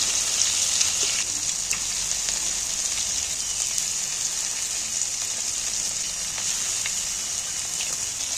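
Shrimp fry in a little oil in a pan over a gas flame turned down low, giving a steady, close, bright sizzle with faint pops throughout and no voices.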